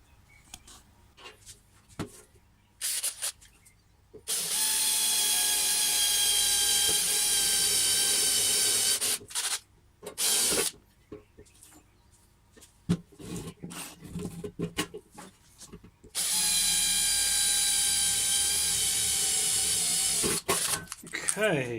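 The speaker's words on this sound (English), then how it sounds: "Alright, so let's drill that out" A power drill bores holes into a K40 laser engraver's control panel, with two long, loud whining bursts separated by quieter handling clicks and rustling, close up.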